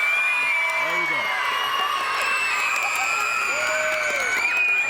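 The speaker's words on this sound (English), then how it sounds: "just clap, roar, do a Cougar roar, just really, really, really get loud" Elementary school children clap and roar together in a crowd, a dense, steady wash of cheering and applause with voices whooping and shouting throughout.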